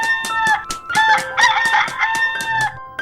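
Rooster crowing repeatedly in a loud, close series of cock-a-doodle-doo calls, with overlapping crows and some clucking across the whole stretch, no talk.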